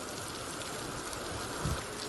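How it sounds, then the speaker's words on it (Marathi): Steady rain falls over Mumbai's eastern suburbs in a dense, even hiss, with a soft thump near the end and no voices. "मुंबईसह उपनगरात पावसाला सुरुवात झाली"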